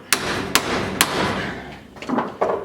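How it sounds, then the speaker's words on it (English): A U-joint is driven out with a hammer striking a sacrificial 3/4-inch socket: three sharp, evenly spaced metallic blows close by, then a couple of softer knocks. "we're going to hit on this one, driving the whole U-joint down until this bottom cup comes out completely"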